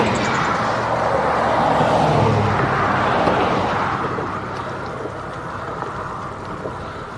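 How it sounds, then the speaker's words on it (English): Car traffic rushes past and echoes off a bridge in a broad, continuous roar, loudest at first and slowly fading, with no talk. "the car noise is kind of ricocheting off the bridge"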